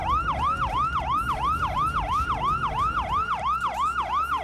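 A siren fitted on a car wails in a steady, rapid up-and-down sweep, loud and close, repeating about a dozen times without any voices.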